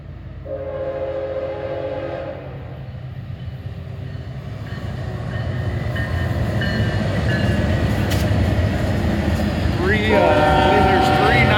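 A BNSF double stack intermodal freight train hauled by three 9-40 CW locomotives rolls past heading west, a steady loud rumble that builds over the clip, with a brief horn-like tone near the start and squealing tones near the end.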